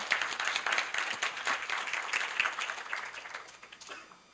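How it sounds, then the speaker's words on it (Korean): An audience at a Korea University business school event applauds to welcome a speaker, a dense burst of clapping that gradually fades out. "박수로 맞아주세요."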